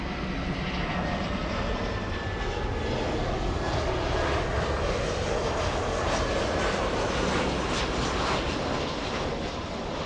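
A Delta passenger jet arrives from Portland at LAX, its engines roaring steadily and fairly loud overhead for about ten seconds, a broad continuous rumble with a faint whine and no voices.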